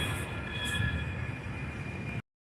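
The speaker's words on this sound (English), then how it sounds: "here comes the train right now. But it's not a Caltrans, it's a Muni train" A San Francisco Muni train arrives at a station, a steady rolling rumble with faint high metallic whine from the wheels, heard from the platform at moderate distance before cutting off abruptly.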